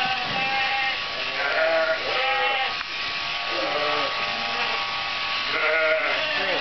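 Sheep bleat repeatedly at close range with wavering cries, ewes and a lamb on an Oregon farm during shearing, over a steady electric shearing buzz.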